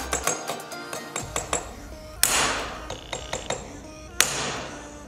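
A hammer drives a nail through a cup held under water, a series of sharp metallic taps in uneven rhythm with two louder ringing strikes, close and clear.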